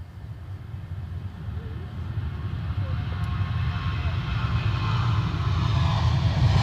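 A Turkish Airlines jet taking off at Edinburgh Airport, its low engine roar swelling steadily louder with a rising broadband rush as it powers down the runway, heard from nearby.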